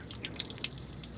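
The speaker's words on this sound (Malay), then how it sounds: "Ni tempat buang air. Ada lagi air sikit lagi." Water drips and trickles from the outlet of a camping water tank on a Toyota Hilux, a few soft, close drops over a faint steady run of liquid.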